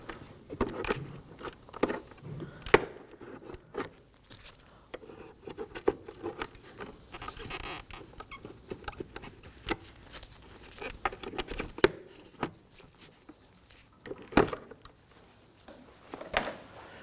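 Plastic trim being pried away from the mirror housing on a 2016-2020 Kia Sorento, a close, continuous run of small crackling and clicking snaps with occasional louder pops, no talking.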